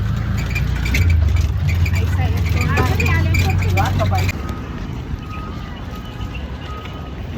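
An auto rickshaw engine runs with a steady low drone while the vehicle drives along a road; the drone drops partway through, and people talk over it.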